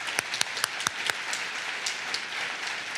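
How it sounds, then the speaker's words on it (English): An audience at a Youth of the Year celebration claps in a modest, scattered round, with a few sharp near claps standing out over softer, distant applause that carries on at a low level. "let's clap one more time"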